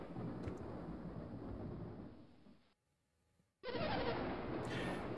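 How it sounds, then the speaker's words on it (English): A thunderstorm in the video game Golden Sun sends up a loud, rain-heavy rumble. It fades to near silence, then bursts back in at full strength. "Sounds like one heck of a storm going on"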